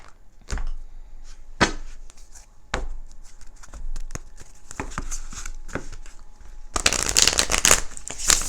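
Tarot cards are handled and shuffled up close, with scattered taps and riffles building into a dense, continuous shuffling burst near the end.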